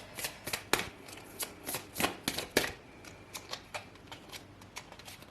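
Cards handled and drawn from a deck during a card reading, a close series of crisp flicks and snaps in an irregular rhythm, with no talking.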